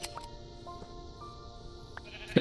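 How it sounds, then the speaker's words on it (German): A sheep bleats in the Minecraft video game, with short bleats scattered across the clip over a soft synthetic music bed, ending in a louder burst. "Kann ich das Schaf nicht scheren?"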